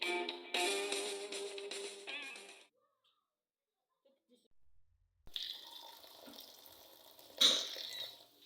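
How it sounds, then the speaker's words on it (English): Fresh cranberries rinsed in a colander under a running kitchen tap, water splashing and hissing in two bursts separated by a quiet gap, with a sharp clink near the end. "hold the cranberries under running water and swish them around to clean the berries"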